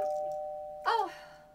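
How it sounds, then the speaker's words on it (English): A doorbell gives a single quick ding-dong chime after a faint sustained tone, close and clear in a quiet room. "Who's ringing the doorbell?"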